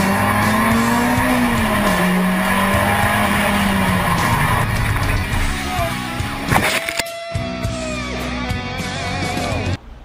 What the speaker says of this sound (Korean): 속도가 너무 빠른 경우는 이제 밀려버려요. 예, 슬립 현상이 생겨요.